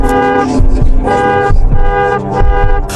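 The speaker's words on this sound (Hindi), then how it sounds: "कार ने जोर से हॉर्न दिया" A car horn blares repeatedly in long, loud honks, the tone held and pulsing with brief dips between blasts.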